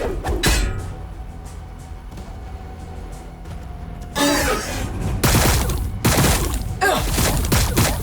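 Battle fire in Warhammer 40k Battlesector, a turn-based strategy game, comes as loud bursts of overlapping shots and impacts. It starts quieter and swells into dense, clattering volleys in the second half.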